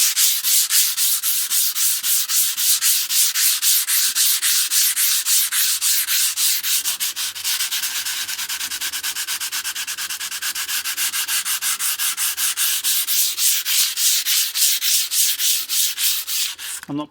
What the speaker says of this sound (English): That was 80 grit, and I'm just going to go down to 120. And you can hear that noise, it's really biting well.